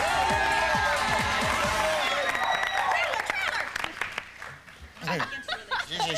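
A Family Feud studio audience cheers and applauds loudly at first, with whoops and clapping, then fades into scattered claps and chatter as voices talk over it.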